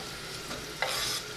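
Tomato frying in a small pan gives a steady, close sizzle, with a brief stir at about half a second and a louder burst of crackling near the middle.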